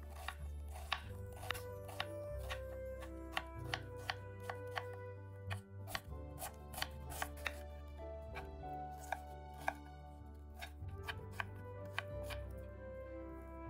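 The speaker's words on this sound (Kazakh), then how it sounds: "Екі үлкен емес пиязды қатты майдаламай турай берсеңіз болады." A knife chops onions on a board in quick, sharp strikes, a steady run of close, crisp taps over quiet background music.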